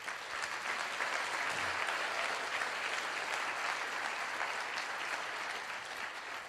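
A large audience at a motivational talk breaks into steady, dense applause that holds at an even level throughout, sounding broad and continuous without any voices over it.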